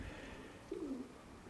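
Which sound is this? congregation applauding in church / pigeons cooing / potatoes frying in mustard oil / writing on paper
pigeons cooing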